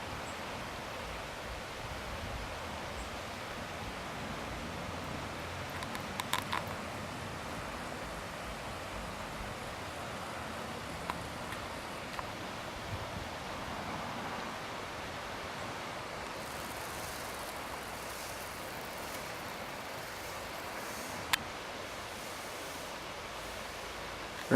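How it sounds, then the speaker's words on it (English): A constant soft rush of flowing water, even and unbroken, with a few faint clicks and rustles. "Water."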